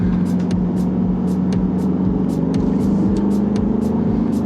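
Aston Martin DBX 707 SUV engine under acceleration, a steady loud droning hum with a low rumbling undertone and faint intermittent higher whirs, continuous throughout with no talking.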